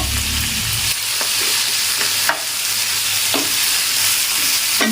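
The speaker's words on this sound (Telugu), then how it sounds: "కడిగిన మునగాకుని ఇందులో వేసుకోవాలి ఇది బాగా వేగాలి" Drumstick leaves fry in a pan for a drumstick-leaf coconut curry, giving a continuous dense sizzle with several sharp stirring scrapes and clacks, heard close with no talk.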